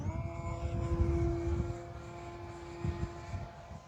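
A Durafly Tundra V3 RC plane flies overhead with a steady buzzing electric motor drone, moderately distant, swelling and easing as it passes while wind rumbles in the background.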